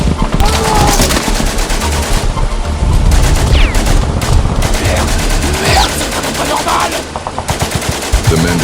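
German rifle and machine gun fire from 1914 trench warfare, dense overlapping bursts and sharp cracks crowding together, loud and continuous with a rumbling background.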